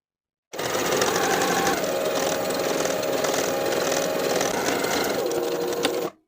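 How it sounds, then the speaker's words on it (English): A sewing machine running a straight edge stitch along a knit cardigan placket, a steady close whirring hum that starts suddenly, holds for about six seconds without pause, then stops. "Then we'll edge stitch along the raw edge of that placket from top to bottom."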